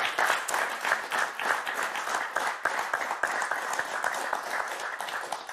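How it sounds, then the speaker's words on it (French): Studio audience on a French TV word game show bursts into sustained, dense applause, steady and loud throughout with many hands clapping at once. "Allez, on vous applaudit très fort, Jules, Charlie."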